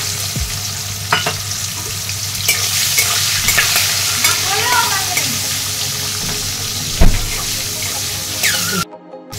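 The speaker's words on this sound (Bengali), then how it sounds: "ভাজা হলে তার মধ্যে ছেড়ে দিচ্ছি গোটা একটা টমেটো কুচি, আর দিয়ে দিলাম মটরশুঁটি।" Chopped tomato and peas sizzle in spiced oil for a cauliflower roast while a spatula stirs and scrapes the pan, a steady close hiss broken by a few sharper clatters before it cuts off abruptly at the end.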